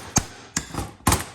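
Three sharp metal hammer blows strike a scrap electric motor to knock its back cover off, evenly spaced and close, with slight ringing after each hit.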